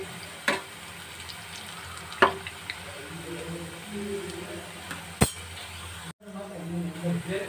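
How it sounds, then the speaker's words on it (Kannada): Onion pakoda frying in hot oil, a steady soft sizzle with a few sharp clinks of a utensil turning the fritters, while a person talks over it. "ಇನ್ನೂ ಒಂದು ಸ್ವಲ್ಪ ಹೊತ್ತು ಫ್ರೈ ಮಾಡ್ಕೊಳ್ಬೇಕು ಇದನ್ನು"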